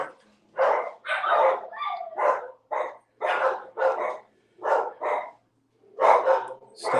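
Dogs at a Cleveland no-kill shelter bark at someone standing out front, a rapid run of loud, close barks and yips in quick bursts with short gaps between them.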